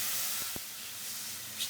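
Water hits hot oil seasoned with ground coriander, ginger, dried chili and turmeric for a homestyle cauliflower and catla fish curry, giving a steady close hiss of steam with a couple of soft knocks and a brief louder burst at the end.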